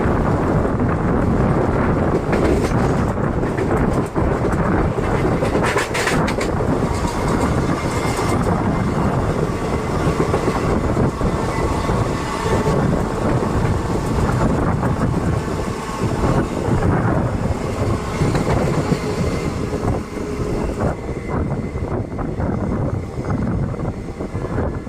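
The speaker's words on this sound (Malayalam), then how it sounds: "മംഗളൂർ തിരുവനന്തപുരം ഏറനാട് എക്സ്പ്രസ് ആണ് ഇതാ വന്നുകൊടുക്കുന്നത്" The Mangalore–Thiruvananthapuram Eranad Express, hauled by an Erode shed WP4 locomotive, arrives in a long, loud, continuous rumble of rolling wheels and carriages. Heavy wind buffeting on the microphone runs through it, with occasional clanks.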